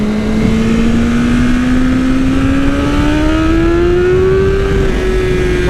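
A 2020 BMW S1000RR M sport motorcycle with a flashed ECU accelerating hard, its engine note climbing steadily and loudly through the revs, close and continuous with heavy wind rush and no talk.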